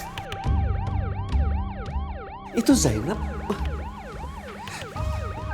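An ambulance siren wails in fast, regular rising and falling cycles, fairly close and continuous, with a brief voice and a sharp knock midway.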